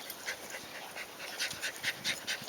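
Coco, a little eight-year-old Yorkie mix, pants steadily in quick close breaths with faint whimpering mixed in, no talking.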